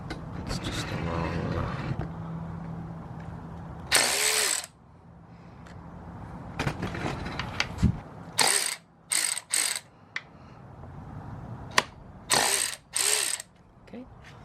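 A hand ratchet loosens bolts on an Alta Redshift SM39 electric motorcycle, with several short bursts of sharp clicking close by, separated by quieter pauses with workshop handling noises and faint speech.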